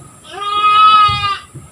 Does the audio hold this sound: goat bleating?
yes